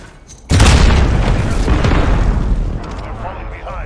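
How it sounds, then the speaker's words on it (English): A precision airstrike explosion in Call of Duty Modern Warfare: a sudden, very loud deep boom that rumbles and decays over several seconds, with a voice heard faintly over the tail. "Friendly precision airstrike."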